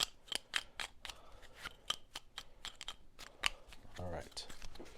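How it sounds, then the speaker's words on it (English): Board game cards from a solo session of Lost Ruins of Arnak are shuffled by hand: a quick series of soft, close riffling snaps and rustles, fairly quiet, with a brief low vocal murmur near the end. "Shuffle the opponent's pile."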